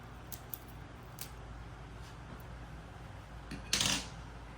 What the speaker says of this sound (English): And then we will cut using sterile scissors near the plastic clamp.